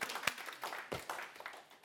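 Applause from an audience at a talk on exercise for multiple sclerosis held aboard a cruise, a short burst of scattered clapping with a few louder claps standing out, fairly quiet and distant.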